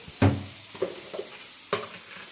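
A spoon scrapes and stirs tomatoes softening in a pan for a leftover curry chutney, with several distinct knocks and scrapes over a faint sizzle, heard close and without talk.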